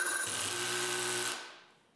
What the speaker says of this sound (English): I can now screw a screw into this hole.